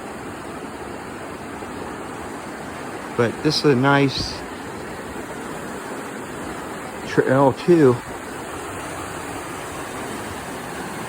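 The Metolius River rushes beside a trail as a broad, constant roar of flowing water. Someone speaks briefly twice over it.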